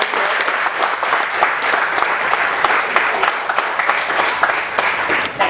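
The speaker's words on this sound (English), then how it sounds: "A big round of applause for this young man." A seated audience at a trekking talk event claps steadily in dense, sustained applause throughout, fairly loud and close, with no clear talking over it.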